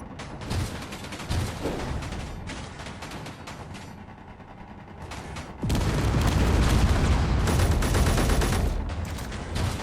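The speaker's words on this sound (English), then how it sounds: "Just got shot by my own gun." An automatic gun fires in the video game Underground Alone, a rapid stream of sharp shots with creaking mechanical clatter; the bursts thin out midway, then return louder and denser in a sustained barrage.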